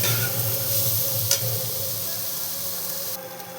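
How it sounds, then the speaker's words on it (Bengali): Boiled potatoes sizzle steadily with spices in a hot pan, a constant frying hiss with a faint scrape of stirring partway through. "এটা ভালো মতোই মশলার সাথে ভেজে নিতে হবে।"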